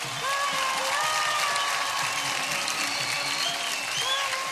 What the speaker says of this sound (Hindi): आशा जी के लिए एक बार जोरदार तालियां।